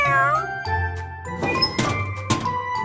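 A cartoon kitten's high, drawn-out meow opens the clip, followed by a few soft thumps and rustles close by.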